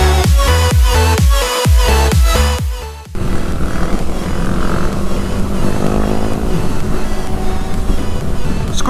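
A motor scooter engine drones steadily during a group ride-out, with rushing wind noise over the motor; loud rhythmic music plays for the first few seconds before the engine sound takes over.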